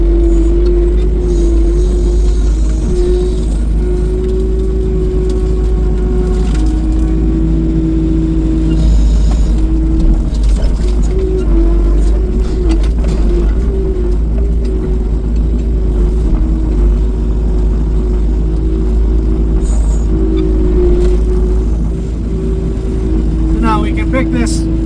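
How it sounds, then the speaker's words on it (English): A skid loader's diesel engine drones steadily from inside the cab during tree clearing and firewood work, with a loud constant low hum and engine whine and occasional mechanical clanks throughout. "I'll try and record some from inside the skid loader"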